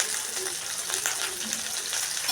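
Spices, tomato and ginger-chili paste fry in a hot pan with cloves, cardamom, cinnamon, dried chili and bay leaf, giving a steady, close sizzle with light crackles and faint scraping throughout.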